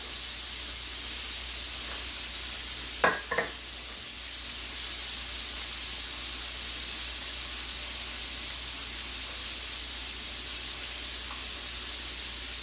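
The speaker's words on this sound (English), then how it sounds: "Now we got the onions. Soften it up, saute." Onions and habanero peppers saute in a pan in a home kitchen, giving a faint, steady sizzling hiss throughout, with a couple of brief utensil clanks early on and no voices.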